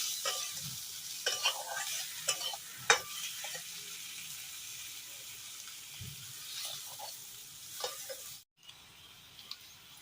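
Low crackling sizzle of rui fish frying in a pan, with scattered clinks and scraping of a utensil stirring, no talking.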